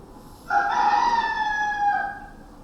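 A rooster crows once, a loud, drawn-out cock-a-doodle-doo rising and falling over about a second and a half against quiet.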